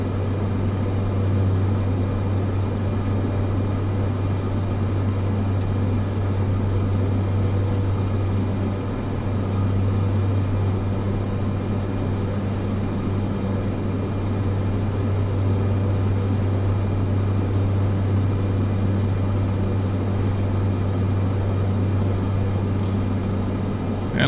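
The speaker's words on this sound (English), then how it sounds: "bring the aircraft down on its main gears" A Cessna C208 Grand Caravan in Microsoft Flight Simulator 2024 drones steadily on landing approach, its single turboprop engine a constant low hum with a strong bass tone, unchanging and close throughout with no talk.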